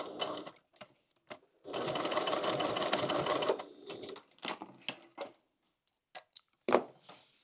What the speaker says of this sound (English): I'm going to sew across the very end as well